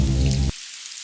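Rain falls in a dense, steady hiss that cuts off abruptly halfway through, leaving only a faint wash of sound; no voices.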